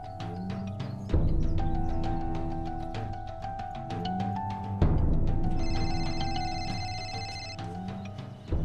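A phone ringtone plays a repeating electronic melody over a steady musical backdrop, ringing continuously with a slight restart partway through.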